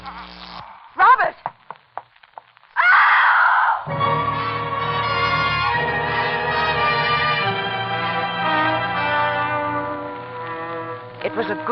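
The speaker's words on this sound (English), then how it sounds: "It was a good, loud scream" A few short vocal sounds, then a long, loud, sustained scream in a 1946 radio drama, with a strained, harsh tone that holds for several seconds before breaking off.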